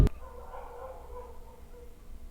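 A dog in the Roblox game Identity Fraud gives a single drawn-out, whining bark after a sharp click at the start, fairly faint and with no speech over it.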